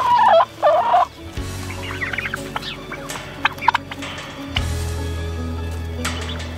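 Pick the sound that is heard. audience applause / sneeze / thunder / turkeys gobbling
turkeys gobbling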